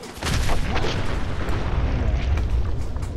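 A nuka grenade detonating in Fallout 4, a loud sudden boom followed by a sustained roaring, crackling rumble that fills the clip.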